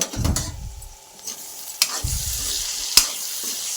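A curry of broad beans and tomato sizzles and bubbles in a pan while a spoon stirs it, with a few brief scraping knocks against the pan, close up and with no talking.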